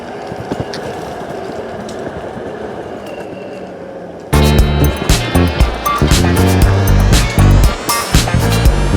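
A Tynee Board Mini belt-drive electric skateboard on 105mm cloud wheels rides fast at speed, first a steady rolling rumble with wind, then a much louder, harsher rumble with rattling clatter and whooshes of passing air.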